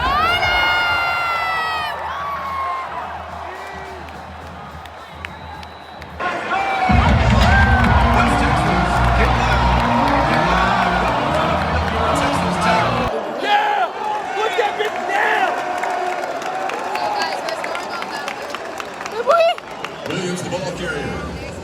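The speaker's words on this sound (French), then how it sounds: "On est en train de huer l'équipe." A large crowd roars and boos the team at an American football game in a US stadium, with shouting, whistles and loud chanting, while nearby voices speak over the din.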